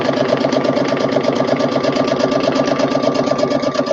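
A sewing machine stitches through fabric with a smooth-gliding presser foot, giving a fast, steady, evenly pulsing mechanical whir close by that runs without a break and with no voices.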